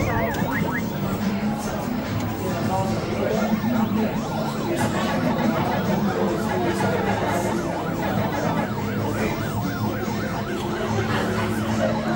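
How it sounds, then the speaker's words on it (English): An ambulance siren wails outside a bar, its repeated rising and falling sweeps loud and close, sounding continuously over steady traffic-like background noise. "there's just this ambulance sitting here"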